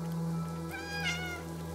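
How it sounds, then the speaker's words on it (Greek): Cats meowing in the game Stray, a single drawn-out, rising and falling meow over a low steady hum, close and clear with no talking. "σου νιαωρίζουν και άλλες γάτες"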